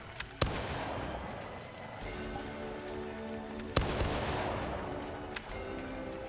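Musket volley gunfire in a VRChat roleplay: a few separate sharp cracks ring out, one early, a strong shot mid-way and a fainter one later, each trailing into a reverberant decay over low background hum.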